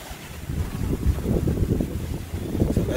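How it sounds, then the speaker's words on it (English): Steady breeze blowing outdoors by a large pool at a rental house in La Estancia, Puerto Plata, Dominican Republic, a continuous low rumbling wind buffeting the microphone throughout, moderately loud with gusty swells and no talking. "It's nice and breezy out here."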